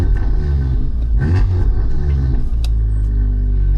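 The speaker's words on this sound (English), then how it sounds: "So now you can hear the valves have opened up a bit." A Volkswagen Golf R's exhaust rumbles deep and loud at idle with its exhaust valves open, a throaty low burble swelling slightly mid-way, close up and steady throughout.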